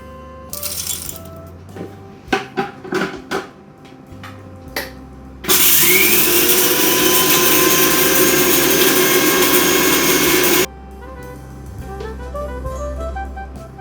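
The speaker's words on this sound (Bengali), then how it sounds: "মশলাটা আমার সুন্দর গুঁড়ো করা হয়ে গেল" An electric grinder pulverizes fried spices into powder for chicken kofta. One loud, steady whirring burst runs about five seconds, preceded by scattered clinks and clatter, with quieter kitchen sounds afterward.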